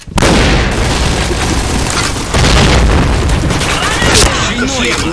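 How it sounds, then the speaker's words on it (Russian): A grenade explodes in a video game as a loud, heavy boom that rolls on for several seconds amid dense battle noise, with a second surge partway through. "Граната."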